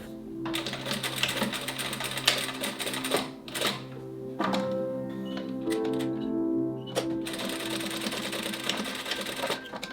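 A sewing machine stitching the quarter-inch top and side seams of a fabric toy banana stem, running in close, loud rapid bursts with brief pauses and clicks between runs.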